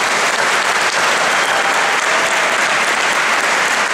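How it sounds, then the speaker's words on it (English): Loud, sustained applause from a conference audience honouring the event organisers, a dense wall of clapping that holds steady without a break and has no talk over it. "Can you just give them a round of applause?"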